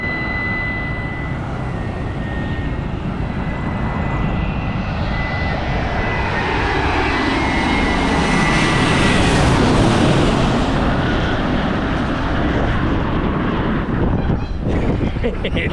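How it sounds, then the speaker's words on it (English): Large jet planes pass low over a vacation spot next to an airport runway in Rarotonga, a loud, broad engine roar that swells to a peak as the aircraft goes directly overhead and then slowly fades, with wind rumble on the microphone. "it's been pretty exciting to see the sounds of those big planes being right underneath us"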